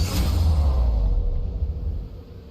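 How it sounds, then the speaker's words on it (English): A Warframe ability effect layered from Daiko drums, sub stingers, whooshes and metal impacts: a loud deep rumbling boom with a swooshing sweep that churns and fades over a couple of seconds. "So the whole ability together using some Daiko drums, sub stingers, whooshes, and metal impacts sounds like this."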